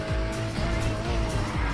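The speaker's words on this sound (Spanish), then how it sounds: "Este Porsche va del carajo." A Porsche racing in NFS Heat, its engine droning steadily with repeated low pulses and a sustained tonal whine, tires squealing briefly amid the loud, close driving noise.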